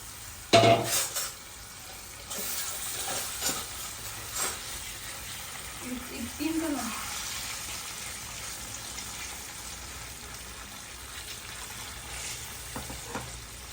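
Palmyra fruit roti batter fries in a pan with a broad, steady sizzle, broken by a few sharp clinks and scrapes of a utensil against the pan early on.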